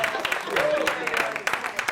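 Audience at a live comedy show claps in scattered bursts, a thin patter of hands sounding briefly under and between a comedian's talking.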